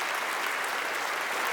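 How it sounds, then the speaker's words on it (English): Brief, dense applause for Trey Hillman, former Royals manager, at an awards event: an even wash of many hands clapping from a seated crowd, with no speech over it. "he deserves a round of applause"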